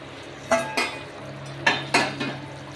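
Metal clatter from a lid lifted off a pot where hilsa fish in mustard is steaming, with a few sharp clinks and scrapes at close range and no talking.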